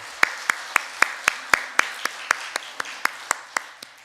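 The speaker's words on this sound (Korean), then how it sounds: "우리 교회를 위해서 수고하시는 장로님 위해서 뜨거운 박수 한번 부탁드리겠습니다" Church congregation claps for an elder during Sunday worship, crisp hand claps landing in an even, quick rhythm about four per second, steady and moderately close throughout.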